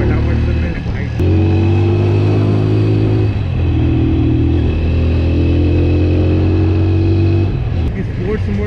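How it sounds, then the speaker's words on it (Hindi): A 2022 TVS Apache RTR 200 4V motorcycle engine revs and pulls hard accelerating in third gear, loud and close, its pitch climbing steadily before easing near the end. "तो तीसरे गियर में ये बाइक ज़बरदस्त पिकअप ले रही है"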